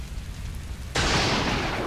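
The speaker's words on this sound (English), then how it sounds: "What is that? Oh, raindrops." Rain in the stealth game Metal Gear Solid 3 sets in suddenly partway through, a broad, steady hiss of falling water that cuts in abruptly over a low rumbling background and continues evenly.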